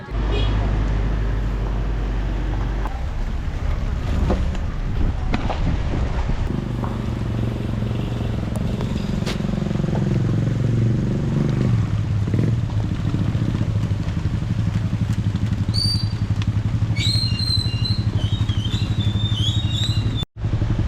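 A small Suzuki 4WD drives down a wet, muddy volcano track in the rain, its engine droning steadily with clattering and rattling throughout, and a voice briefly audible over the noise.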